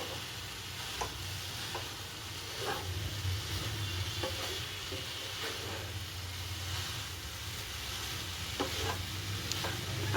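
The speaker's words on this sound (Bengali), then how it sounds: "এই যে এটা একদম শুকনো শুকনো করে ভালো করে আমি নেড়ে নিচ্ছি।" Carrot halwa being stirred dry in a pan, a steady low sizzle with scraping strokes of the spoon recurring every second or so, close and continuous with no talk.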